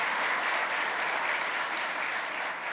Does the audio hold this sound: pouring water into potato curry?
no